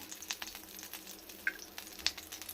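Butter melting in a pan for a bun and bread sandwich, a faint steady sizzle with a few light crackles and small clicks of a utensil, heard close with no talking.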